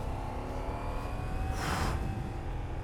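Ducati Diavel V4 motorcycle engine running with a steady broadband roar, swelling briefly into a louder rev in the middle before settling back, close and continuous with no talk.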